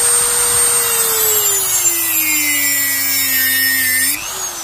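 A Dremel 3000 high-speed rotary tool whines close by, its pitch sagging slightly under load before rising and cutting off near the end.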